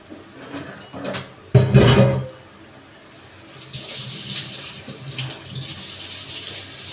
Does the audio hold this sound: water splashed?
yes